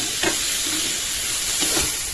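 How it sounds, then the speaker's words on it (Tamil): Tomatoes sauté in a hot pan with a steady close sizzle and hiss, and a couple of soft stirring scrapes cut through the frying. "ஸோ தக்காளி கொஞ்சம் நல்லா வதங்கட்டும்."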